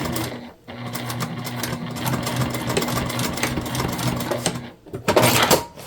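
Sewing machine stitching back and forth to reinforce a tote bag seam, a close steady mechanical whirring hum with short stops and restarts as the stitch direction reverses.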